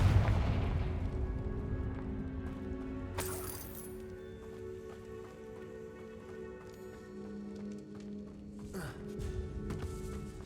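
The Confringo blasting curse in Hogwarts Legacy erupts with a deep opening boom, then a sharp crack a few seconds later. A steady droning game soundtrack and ambience continue beneath.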